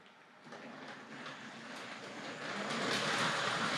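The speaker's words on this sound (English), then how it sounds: "Give the 3F tender locomotive a run." A Tri-ang Hornby or Hornby Dublo 3F tender locomotive running on a model railway, a steady close whirring rumble with faint rhythmic clicking that grows louder as it approaches.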